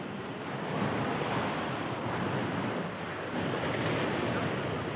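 Sea waves break along Delta Beach in Udupi, a steady, loud wash of surf with wind buffeting the microphone throughout, swelling slightly every few seconds, with no voices.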